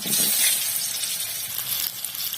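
Potatoes sizzle and fry in hot oil with whole spices, cloves, cardamom, cinnamon and dried chilli, for a vegetarian potato dum; a dense, steady, close hiss with no talk.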